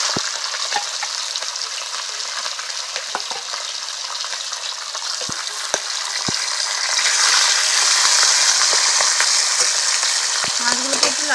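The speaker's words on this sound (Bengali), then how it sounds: "এখন মাছগুলোকে তেলের মধ্যে দিয়ে দেবো" Rohu fish frying in hot oil in a pan, a loud, steady close-up sizzle that swells slightly louder partway through, with scattered faint clicks and scrapes.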